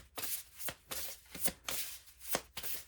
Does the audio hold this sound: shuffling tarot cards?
yes